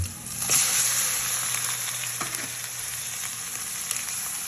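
Chicken pieces in a hot pan for chicken curry, sizzling and frying with a steady bright hiss and occasional crackles, close and continuous.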